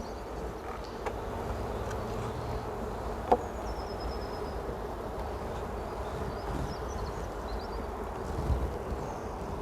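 Honeybees drone steadily around an open hive during the first inspection of the year, a constant close buzzing hum with one brief sharp tick partway through.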